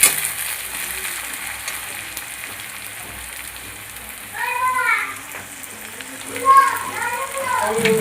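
Chopped tomato hits a pan of browned frying onions, giving a steady soft sizzle throughout, with faint voices and a few clinks over the hiss.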